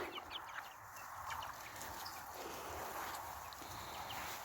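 Faint clucking and peeping of month-old chicks against a steady background hiss, soft and somewhat distant, with no talking.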